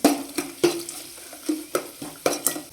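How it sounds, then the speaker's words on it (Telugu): Cumin, mustard seeds, urad dal and chana dal tempering in hot oil for sambar, with a soft sizzle under a run of sharp metallic spoon clinks against the pan, roughly every half second. "ఆయిల్ వేడెక్కిన తర్వాత కొద్దిగా జీలకర్ర, ఆవాలు, మినపప్పు, శనగపప్పు అన్నీ కలిపిన పోపు దినుసులు వేస్తున్నా"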